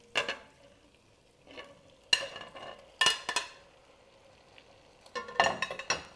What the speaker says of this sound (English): We'll add our meat.